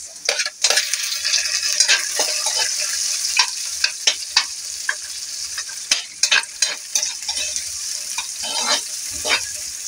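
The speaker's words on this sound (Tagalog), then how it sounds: "gisa natin, guys, yung ating bawang. Ating sibuyas." Garlic and onion sautéing in a hot pan, with steady close sizzling and frying under repeated scraping stirs of a utensil against the pan.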